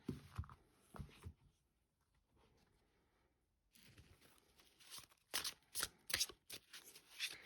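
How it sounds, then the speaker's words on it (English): Couture tarot cards being shuffled by hand, with soft crisp riffles and flicks in short bursts, quiet pauses between them and busier rapid shuffling toward the end. "So they shuffle really nicely over hands, no issues"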